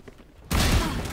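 A single abrupt, loud gunshot in Valorant, hitting after a brief quiet lull and ringing out with a thick, booming tail.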